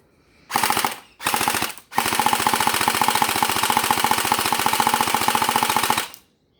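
An Alpha King AK-105 gel blaster fires on full auto. Two short bursts are followed by a long sustained stream of rapid, evenly spaced mechanical shots, loud and close, with no talk.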